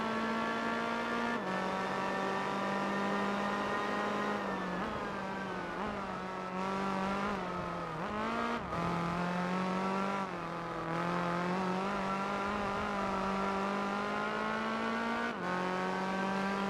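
A car engine in the Gran Turismo 4 video game holds a steady high whine, dipping and climbing again as the revs shift through gears. It is continuous and prominent, with no talking over it.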